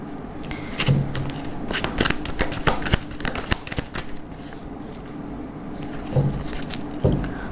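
A tarot card deck being shuffled, close and clear, in quick riffling bursts of papery flicks and scrapes with short pauses between them.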